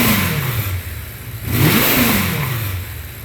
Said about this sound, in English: I'll do a little rev up for you.